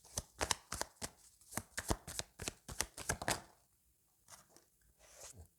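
Tarot cards are shuffled and drawn close up, a rapid run of crisp riffling flicks and slaps in quick succession, then a few softer shuffles and card placements after a short pause, with no talking.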